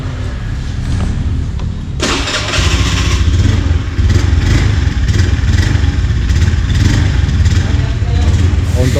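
Blue-and-white Honda Beat FI scooter engine running loudly up close after a broken fuel injector nozzle was replaced; it starts with a sharp catch and then settles into a steady, rough hum, with throttle said to feel heavy and unresponsive.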